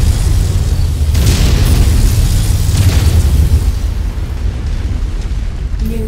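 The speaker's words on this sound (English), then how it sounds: "The autocannons sound big and intimidating." Autocannon fire from a walking mech in the video game Mechwarrior 5 Mercenaries, a steady barrage of heavy booming blasts rumbling loudly and continuously with a dense low-end roar.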